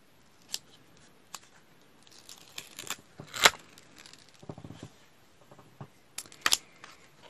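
Scissors snipping through a paper pattern for a stained glass project, a few sharp separate cuts spread out with quiet pauses between, close and fairly faint.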